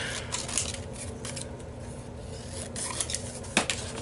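Scissors trimming brown paper for a decorated twelve-drawer craft box, faint scattered snips and rustling crinkles close up, with a sharper cut near the end, no talking.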